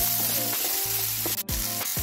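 Starfruit hits hot oil with mustard seeds and dried chilli, a loud dense sizzle close up, broken by a brief scrape or pause partway through.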